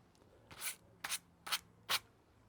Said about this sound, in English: Always sand on a low speed.